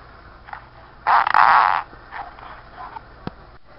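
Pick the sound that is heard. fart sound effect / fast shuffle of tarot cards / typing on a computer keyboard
fart sound effect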